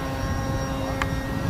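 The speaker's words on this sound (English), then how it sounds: "Just having a great time with this airplane." An EPO foam RC seaplane with a 1015 mm wingspan flies past with a steady, buzzing electric-motor drone at moderate distance. A brief faint whistle cuts through midway.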